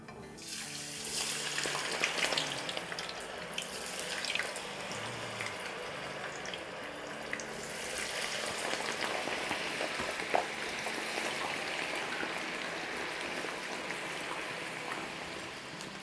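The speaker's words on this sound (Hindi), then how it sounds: "तो चलें इसको अब डालते हैं और इसको फ्राई करते हैं।" About a kilogram of peeled, cut potatoes for aloo chaat drops into hot oil and sets off a steady, broad sizzling hiss that carries on evenly and fairly close, with no talking.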